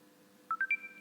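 A WhatsApp notification chime on an Android phone: three quick rising electronic tones ringing out close and clear over a quiet background, with no talking.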